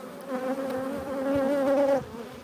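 Italian honeybees drone steadily at an open hive, a close, continuous buzzing hum that swells slightly and holds for a couple of seconds before easing off.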